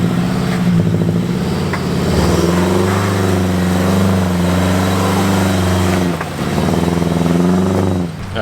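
A highly modified Subaru engine revs and strains steadily as it climbs over a big snowy rut off-road while winter camping, loud and close with a brief dip near the end, no talk.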